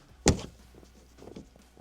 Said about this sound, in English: I got the door unlatched, but